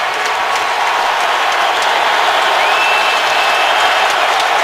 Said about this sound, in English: Crowd on their feet here in Indianapolis.